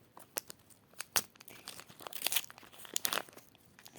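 A toy box package is torn open, its plastic wrapper crinkling and ripping in quick, close bursts that grow busier toward the middle and end.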